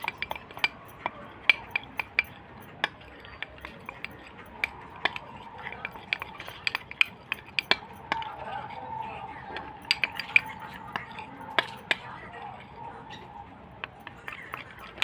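Spoon clinking against a bowl while homemade natural face cream ingredients are stirred together, light scattered taps and scrapes over a quiet background, close and fairly soft.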